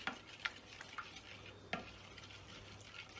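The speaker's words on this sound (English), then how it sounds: "Let's mix it up real good." A ginger and garlic marinade for Hawaiian chicken is stirred by hand, heard as faint, close wet squelches and soft scraping, with a few light clicks against the bowl at an uneven pace.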